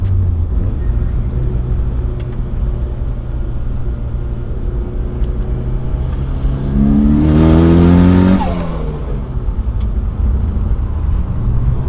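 A tuned Mitsubishi Lancer Evolution IX engine drones steadily, then surges loudly with a rising, harmonic roar as it accelerates hard at wide open throttle, running lean, before settling back to a steady rumble.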